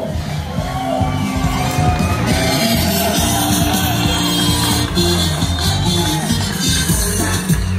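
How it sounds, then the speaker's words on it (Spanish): A television game show audience at a Salvadoran family contest cheers and applauds a family member being introduced, a loud, steady crowd roar with shouts and whoops, with music or voices mixed underneath. "Aplauso del público y decimos el Chorro."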